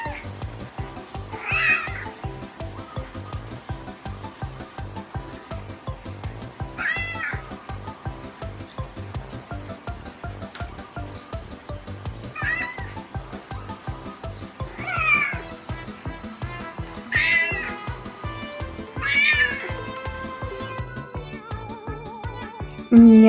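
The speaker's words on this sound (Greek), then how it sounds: "μιάου κάνουν οι γάτες, μιαουρίζουν" Cats meow repeatedly, with several distinct calls rising at intervals over a steady, rhythmic background.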